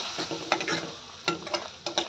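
Ground masala paste being sautéed and stirred in a pan while making Pandharpur-style bazaar amti, with steady soft sizzling and several scraping stirs of a spatula, close and clear with no talking.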